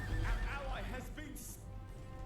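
Horses whinny amid a cavalry battle in Rome: Total War Barbarian Invasion, a shrill neigh rising over low rumbling battlefield din, with a voice talking over the game sound.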